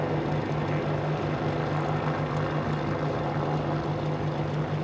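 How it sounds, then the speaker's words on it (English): A Boeing 787-9 jet airliner roars through its takeoff at Paine Field on its first flight, a steady broadband engine rumble with a sustained low hum, loud and continuous with no voices. "Beautiful takeoff."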